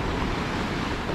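Sea waves rolling in onto a rocky Crimean shore, a dense steady wash of surf noise with no distinct breaks, loud and close.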